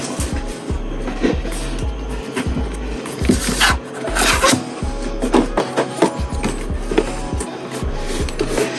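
Cardboard and plastic packaging of Jabra Elite Active 75T earbuds rustles, scrapes and crinkles up close, with repeated tearing and rubbing sounds and occasional soft thumps, no talking.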